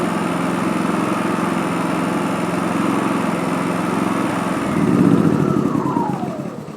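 A Wen 4500 generator running on a remote fuel tank, its engine droning steadily and loudly up close, with a slight rise in pitch and load near the end and no voices.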